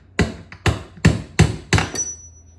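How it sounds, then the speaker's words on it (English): A hammer knocks a pin out of the base of a Minn Kota trolling motor, five sharp, evenly spaced metallic strikes up close, with no talking. "we'll go ahead and hammer this pin back out of the way"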